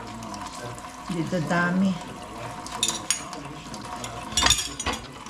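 Leftover dishes are washed under running tap water, with a steady faucet flow, clinks of plates and a brief louder splash, while someone talks over the sound.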